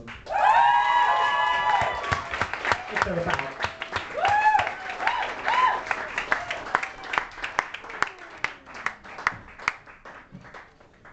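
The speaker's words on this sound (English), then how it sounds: "I would like you all to introduce the Electric Cinema with a great big round of applause" Audience at a book launch applauding and cheering, loud whoops and shouts over a round of clapping that thins to scattered claps, with a voice speaking briefly over it.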